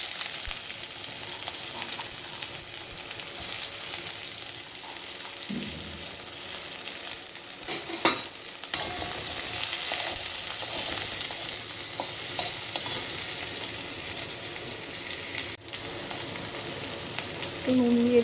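Onions sizzling in a kadai of hot oil with chili and cumin, a steady close frying hiss with occasional stirring scrapes throughout, no talk.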